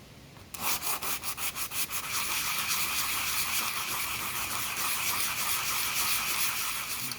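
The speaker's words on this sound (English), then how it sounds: "when I get it down to the point where I just use the fine sandpaper to smooth it out really good" Fine sandpaper rubs over damaged jet ski hull, a steady close scratchy rasp that starts with short rhythmic strokes and settles into continuous fast back-and-forth sanding with no talk.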